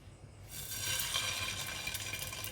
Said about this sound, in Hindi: अब इनको हम फ्राई करना शुरू करते हैं। शैलो फ्राई करेंगे